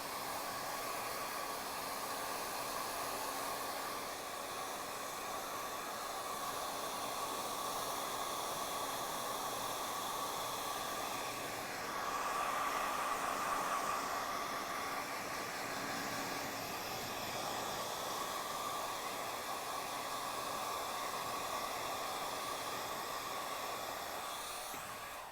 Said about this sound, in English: it's blow drying and directing that hair in one specific area.